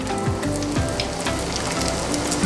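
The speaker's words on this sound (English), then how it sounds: "You can see how fast it's frying" Lamb samosas sizzle and crackle in hot oil, a dense bubbling hiss with scattered pops, close and steady, no voices.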